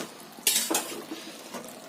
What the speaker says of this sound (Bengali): হালুয়া থেকে যতক্ষণ দুধ বেরোবে আমরা এটাকে নাড়তেই থাকবো